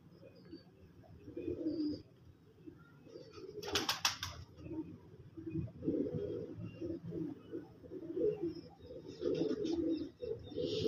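Pigeons coo in low, throaty repeated calls, close by and intermittent, with a brief burst of wing flapping or rustling partway through.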